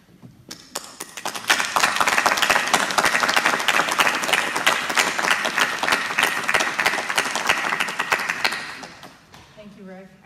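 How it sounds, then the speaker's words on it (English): Audience applause closing an opioid roundtable in Bangor, Maine: clapping starts after about a second, swells into steady, dense applause from a room full of people, then fades near the end as a voice begins speaking. "These people were just clapping because we're done on time"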